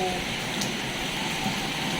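Rain falls steadily during an outdoor lunch, a soft continuous hiss of drops with no breaks across the short stretch.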